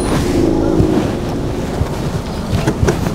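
Steady cabin noise from a 2007 Suzuki Swift GL automatic while driving: a continuous low rumble of engine and road with wind hiss and a few faint knocks, no talking.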